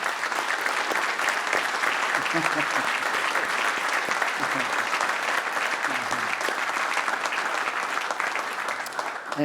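An office year-end meeting audience applauds Andrea Keel with a sustained, even roar of many hands clapping throughout, with faint voices mixed in underneath.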